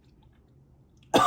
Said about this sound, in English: Excuse me one second, I have to cough.